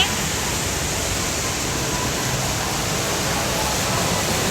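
The waterfall fountain at ICONSIAM in Bangkok pours with a steady, loud, even rush of falling water that holds constant throughout with no pauses.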